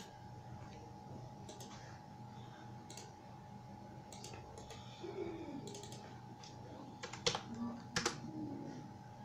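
Quiet typing on a computer keyboard while working in CAD software, scattered light key clicks with a short burst of louder taps near the end, over steady background hum.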